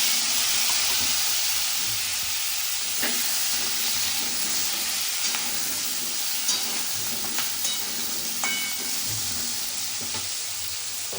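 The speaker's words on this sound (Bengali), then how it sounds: "আর ওই তেলের মধ্যে দিয়ে দিচ্ছি আমি পটল আর আলুগুলো ভেজে রাখছি" Pointed gourd and potato pieces frying in hot oil in a pan give a steady, loud, close sizzle with crackling pops throughout, and no voices.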